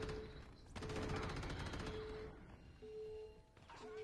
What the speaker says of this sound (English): Just shoot them. Use your gun.